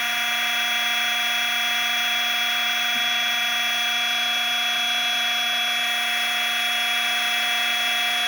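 A motor on a two-motor ArduPilot tailsitter VTOL drone whines at a steady high pitch with strong tonal harmonics, droning continuously and close without talk.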